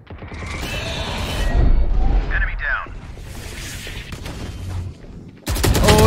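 Gunfire from the video game Valorant comes as bursts of weapon shots and mechanical clatter mixed with game effects, with a loud burst at the end, while a player talks over it.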